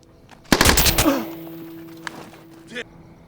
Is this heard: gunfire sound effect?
yes